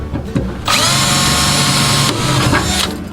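Power drill driving a 5/16 screw into the battery shelf of a 1952 Chevy pickup, one loud, close, steady whine lasting about a second and a half, with handling clicks before and after.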